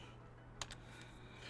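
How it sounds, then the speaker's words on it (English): A single Insert keypress on a PC computer keyboard during GTA V modding: one quiet, close click followed by a couple of softer ticks, in otherwise near silence. "now go on your keyboard and press insert"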